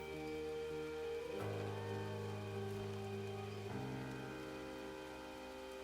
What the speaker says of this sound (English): It's just raining non-stop.